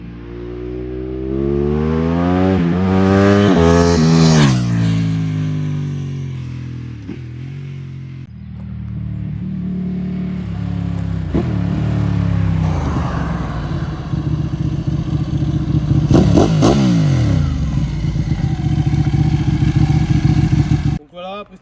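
A Ducati 1199 Panigale S is ridden hard, its engine climbing through rising, close, loud revs, shifting through gears and accelerating again, with a voice talking over it.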